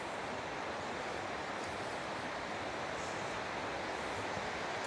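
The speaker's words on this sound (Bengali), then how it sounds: "ঝর্ণার কাছাকাছি চলে এসেছি, পানির শব্দ শোনা যাচ্ছে।" Water rushing at a waterfall on a wooded trail in Massachusetts, a steady dense broadband roar that holds unbroken throughout with no voices.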